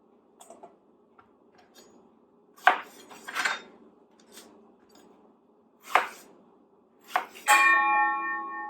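A few soft thuds and clunks as tomatoes drop into a dish, ending with a sharper clatter that rings briefly.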